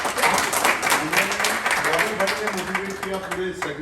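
A crowd applauds for Babar Shah at an Independence Day mela: dense, continuous clapping throughout, with a voice talking over it.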